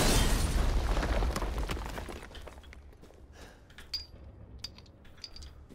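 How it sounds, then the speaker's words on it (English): Pipe bomb explosion in Resident Evil Village, a loud close blast that rumbles and decays over a couple of seconds, followed by a few faint clinks and debris sounds. "Thank God I got these 15 pipe bombs the game gave me."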